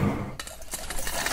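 Foley work recreating kitchen sounds for an animated cooking film: close, clattering clinks of metal and dishware, several quick light impacts over a dense background.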